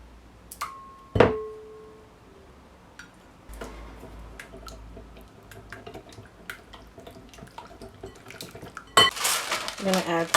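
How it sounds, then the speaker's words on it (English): Wet ingredients for crab cakes are stirred in a bowl, with scattered clinks and taps of a utensil against the dish, a couple of sharp ringing knocks early on and a busier clatter near the end. "we're just gonna mix all of our wet ingredients together"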